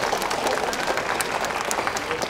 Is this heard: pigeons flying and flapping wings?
no